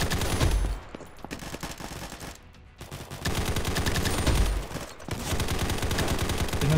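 Rapid bursts of automatic gunfire in a video game, loud and dense, coming in several volleys separated by short pauses.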